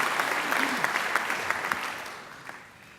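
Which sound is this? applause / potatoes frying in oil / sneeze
applause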